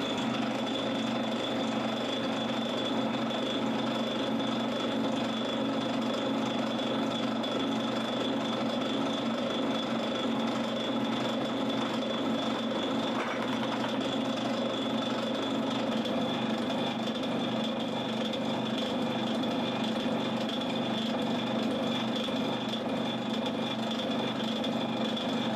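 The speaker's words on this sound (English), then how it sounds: "we'll get the lathe fired up and we'll start taking some material off" A metal lathe takes material off a galvanized steel bolt for a Boll Aero 18 1.8cc model engine build, giving a steady, loud, continuous grinding whine with a constant pitched hum that runs unbroken throughout.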